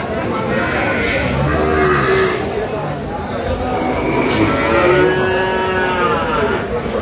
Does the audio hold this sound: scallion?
no